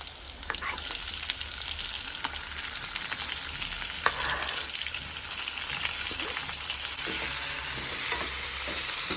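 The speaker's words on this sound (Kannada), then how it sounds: "ಸ್ವಲ್ಪ ಫ್ರೈ ಆದಮೇಲೆ ಈರುಳ್ಳಿ." Onion and green chillies fry in hot oil for a home-style dal, giving a dense, continuous crackling sizzle that swells slightly toward the end, with a few faint scrapes, heard close and with no speech.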